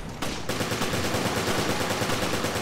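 Rapid automatic gunfire in the video game Resident Evil: Revelations during a boss fight, a fast, even stream of loud shots that starts abruptly and continues without pause.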